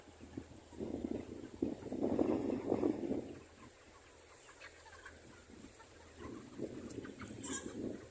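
Chickens cluck and squawk in a busy flurry, fading briefly before picking up again, heard at moderate distance over faint background noise.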